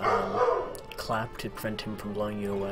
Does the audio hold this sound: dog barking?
yes